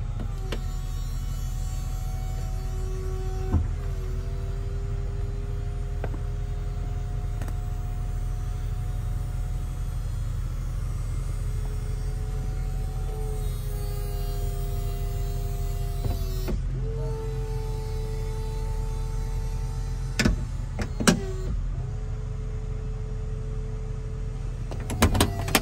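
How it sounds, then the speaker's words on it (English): The power convertible top of a 2008 Chrysler Crossfire retracts upward with a steady electric motor whine that steps in pitch between stages, carried over a constant low hum and ending with a few mechanical clunks. "since this is a convertible, we'll go ahead and we'll put the top up so you can see the operation"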